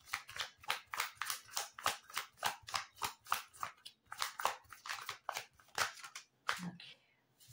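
Cards being shuffled for a card reading make a quick, regular series of close crisp snaps and riffles, about four per second, before slowing and fading out near the end.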